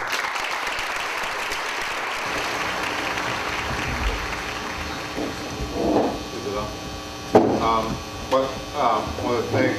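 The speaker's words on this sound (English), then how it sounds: "give them a big applause for coming tonight" Audience applause welcoming a panel at an event about Haiti, steady clapping over a mains hum that fades as a voice begins speaking near the end.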